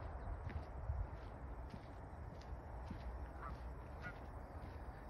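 Ducks honk faintly and sporadically at a conservation area just off Highway 401 in Whitby, Ontario, the calls distant and thin over a steady low outdoor rumble.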